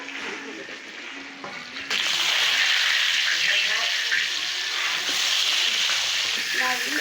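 Tilapia fish fries in a pan in a steady, loud, hissing sizzle that jumps louder partway through and stays dense, with a faint voice now and then underneath.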